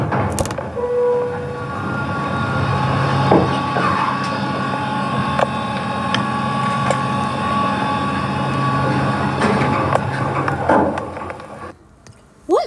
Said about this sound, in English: let's get one more take of the motor